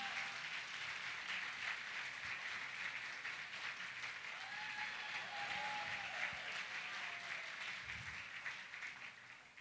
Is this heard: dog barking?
no